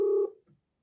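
A single short telephone dialing tone sounds clearly for a fraction of a second, then cuts off into silence.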